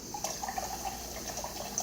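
Hot water pours into a measuring cup for pizza dough, a close, steady trickle with small bubbling drips throughout.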